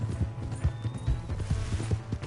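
Horse hooves clip-clopping at a quick, steady gait in the video game Red Dead Redemption 2, close and fairly loud, with rhythmic thuds continuing throughout.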